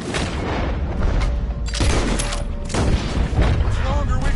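Gunfire in the Red Dead Redemption 2 battle, dense rattling volleys and booming shots piling up loud and close, with voices talking beneath the shooting.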